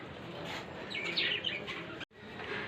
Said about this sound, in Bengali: দেখুন আমার কলোনির বদ্রিরা সব খাবার খাচ্ছে দুপুরবেলায়।